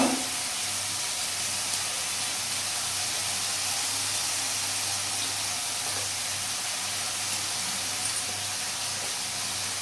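Pumpkin roasting in a pan gives off a steady sizzling hiss throughout, close and even, with no voice over it.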